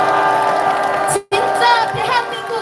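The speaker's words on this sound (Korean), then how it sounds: "여기 계신 모든 분들은 박수로 환호해 주십시오." A crowd at an election campaign launch rally in Incheon cheers and applauds loudly and continuously, with a brief cut in the middle and shouts rising afterward, a voice on a speaker mixed in.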